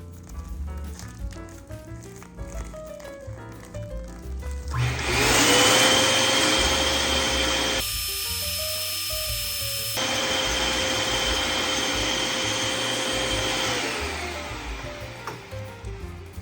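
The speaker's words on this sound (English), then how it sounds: "insert your nozzle and begin to inflate using your premium foil inflator" An electric foil balloon inflator fills a Mylar balloon with a loud, steady motor whine and rushing air that holds for about nine seconds before winding down.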